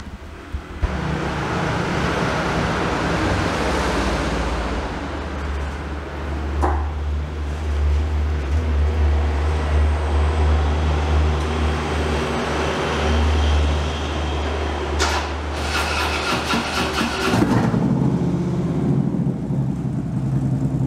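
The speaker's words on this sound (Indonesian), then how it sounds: "Ini dengarkan ya, ini pada proses flushing bekerja mesin." A 2011 Harley Davidson Road King V-twin idles steadily during an internal engine chemical flush, a loud, continuous low rumble with a sharp hiss or clatter briefly rising near the end.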